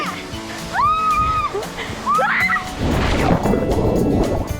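Water sloshes and splashes into a blue limestone pool with a mini waterfall, a loud churning splash following voices and shouts from people nearby.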